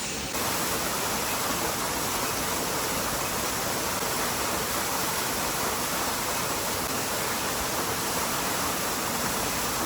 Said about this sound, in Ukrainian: супер секретний водоспад